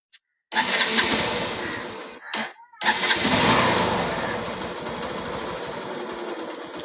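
A serviced Honda CB Shine motorcycle with a new accelerator cable starts up, catches briefly, stumbles, then settles into a steady, quiet close idle after the second start.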